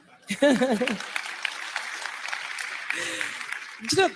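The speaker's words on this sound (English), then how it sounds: "if you want to clap with full energy" Audience at a talk with a government minister clapping, brief bursts of voices at the start and end around a sustained stretch of crowd applause in the middle.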